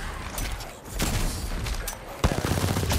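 Video game gunfire crackles in dense, rapid bursts with a sharp louder shot near the end, set against continuous noisy game background.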